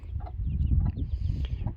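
Backyard chickens, two hens and a rooster, clucking softly and repeatedly at close range in short murmuring bursts with no talk.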